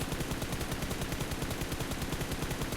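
Rapid automatic gunfire in PUBG Mobile, a dense, steady stream of loud shots repeating evenly for the whole stretch with no talk over it.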